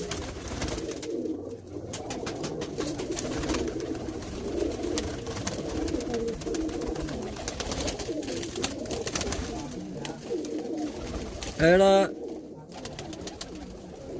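A female pigeon from a breeder's loft in Faisalabad coos in soft, repeated low calls, with someone talking over it and a brief sharp squeak near the end.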